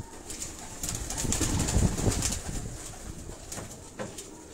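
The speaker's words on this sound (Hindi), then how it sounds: "ये भी छोटे बेबी पिजन हैं।" Breeder pigeons and baby pigeons in rooftop cages coo softly in low, throaty bursts that swell near the middle, over a steady background hiss with faint chirps.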